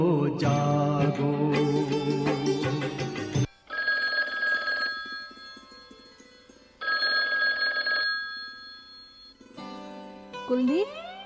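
Telephone ringing in two long, loud electronic bursts with a short pause between, following a stretch of music, with no talk over the rings.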